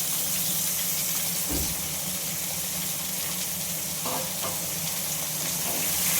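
Ridge gourd, stems and whole green chillies sizzle in a pan with potatoes, a steady broad frying hiss with a couple of brief clinks or bumps from the pan, close and continuous without talk.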